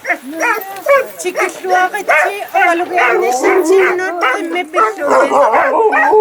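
Several sled dogs in Greenland howl and yip together in a loud, overlapping chorus, with wavering cries rising and falling close by.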